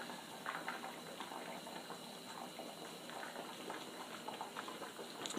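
Eggs boil hard in a pot of water, a steady, quiet bubbling and fizzing that runs unbroken throughout with no voices.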